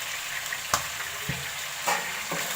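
Chicken frying in a pan with garlic, ginger and green chili paste, a steady soft sizzle broken by a few clinks and scrapes of stirring.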